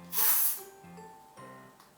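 A Flower Fresh deodorant aerosol gives one loud, close hissing spray burst of about half a second, then fades into quieter rustling and soft handling sounds.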